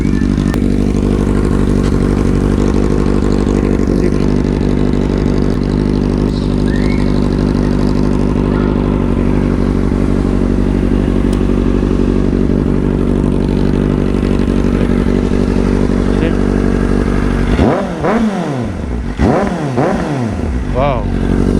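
A motorcycle engine runs steadily during a ride around Tuwi, Batangas, a loud continuous drone with harmonic bands, then shifting revs near the end; a voice speaks briefly over it.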